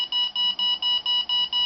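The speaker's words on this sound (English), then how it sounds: "you also get an alarm saying that it goes out of range" Rapid repeated electronic beeping from an MJX Bugs 6 RC car transmitter's out-of-range fail-safe alarm, about seven evenly spaced bursts of a bright, steady tone, clear and alone with no talk.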